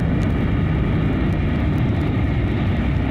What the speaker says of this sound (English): an immeasurably powerful invisible plane zooms down from the sky, hovers briefly above her, dropping a rope ladder